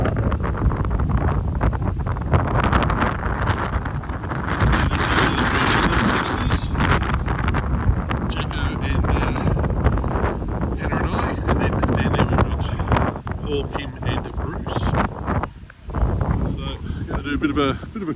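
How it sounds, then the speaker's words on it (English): Strong wind buffets the microphone on a chilly, open beach, a continuous loud roar with gusty swells that barely lets up. "Ooh, bit windy. Chilly and windy beach."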